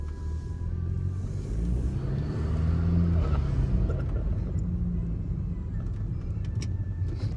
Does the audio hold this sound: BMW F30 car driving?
yes